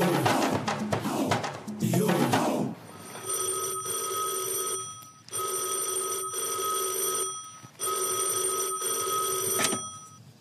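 Telephone ringing with a bright electronic bell in three long repeated rings separated by brief pauses, clear and close, after a stretch of talk and noise at the start.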